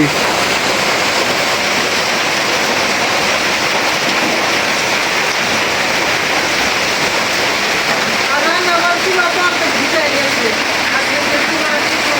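Heavy rain pours down steadily and loudly in a rural home during a sudden flood, a dense unbroken roar that fills the whole stretch, with faint voices underneath.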